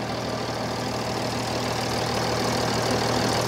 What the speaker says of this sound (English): Just a magnificent sounding truck.